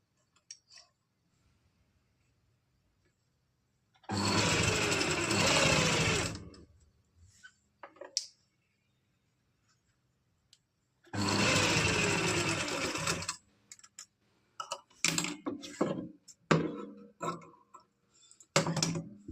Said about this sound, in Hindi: हम इस तरह से रेब पट्टी को रखकर एक पाँव का मार्जिन छोड़ते हुए अंदर की तरफ पूरे में सिलाई लगा लेंगे